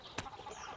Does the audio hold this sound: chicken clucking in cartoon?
yes